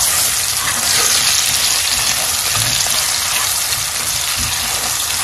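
Onions hit hot coconut oil in a pan and fry with a loud, steady sizzle that holds unbroken from start to finish, with no talking over it.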